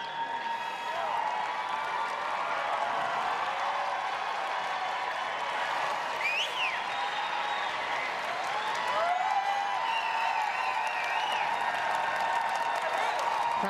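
Crowd at the Westminster Dog Show applauding and cheering during Best in Show judging, a steady wash of clapping and excited voices that holds throughout, with a few louder shouts rising above it.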